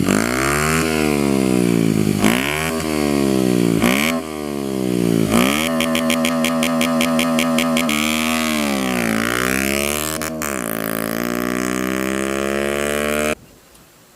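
A Honda Wave 110i LED motorcycle with a modified cam, aftermarket exhaust and sprocket revs hard and close, its engine note swelling and falling through repeated throttle blips with a rapid stuttering burst midway before cutting off abruptly.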